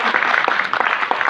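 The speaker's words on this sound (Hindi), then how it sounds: "तो तालियां एक बार जोरदार" Hearty audience applause at an award ceremony, a brief burst of dense, loud clapping close by with no talk.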